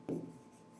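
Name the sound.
writing on a board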